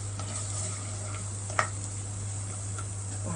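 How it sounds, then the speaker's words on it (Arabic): Chopped onion sautés in ghee in a clay tagine pot, a steady soft sizzle with faint stirring clicks and one brief scrape of a utensil. "وحطيت فيه السمنه، وهنزل بالبصله اهي. هنشوح البصله شويه"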